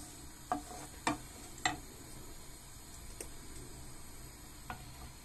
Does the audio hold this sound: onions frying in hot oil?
yes